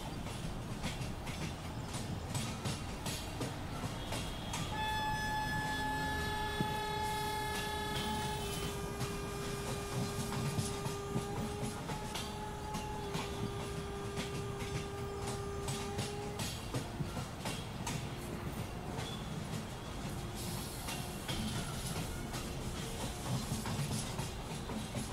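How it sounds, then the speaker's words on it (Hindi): Mumbai suburban slow local trains, a CSMT–Vashi and a CSMT–Kalyan service, running side by side out of CSMT station. Steady rumbling rail noise with clickety-clack over the track, and a long sustained whistle or horn tone heard partway through. "सीएसएमटी वाशी स्लो लोकल और सीएसएमटी कल्याण स्लो लोकल एक दूसरे के साथ पैरेलल करते हुए"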